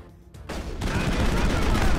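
Heavy sustained shotgun fire in the sci-fi game Mass Effect, loud and dense after a quiet start, blasts piling into a continuous roar of combat.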